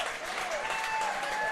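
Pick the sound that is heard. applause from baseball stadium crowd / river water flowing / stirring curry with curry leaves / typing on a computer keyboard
applause from baseball stadium crowd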